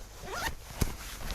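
A waterproof zip on a jacket's front pocket is pulled in one quick, close rasping stroke, followed by a soft tap.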